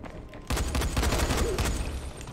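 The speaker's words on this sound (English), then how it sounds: "Shooting from the hip." Rapid bursts of gunfire from a rifle in the video game Dying Light, a dense rattling volley starting abruptly and continuing loud and close for nearly two seconds.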